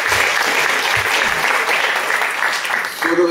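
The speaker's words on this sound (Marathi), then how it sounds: "स्मिता साठी एकदा जोरदार टाळ्या वाजवल्या" Audience at a live music concert bursting into steady, dense applause, loud and close, sustained throughout with a few voices mixed in.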